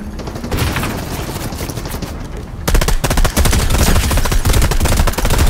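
Rapid automatic gunfire from the video game Fortnite rattles in dense, loud bursts, growing heavier and more continuous halfway through.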